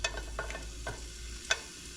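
Onions dropped into a pan with sausage crackle and sizzle, with a few sharp stirring clicks and scrapes over a steady low frying hiss, close and moderately loud.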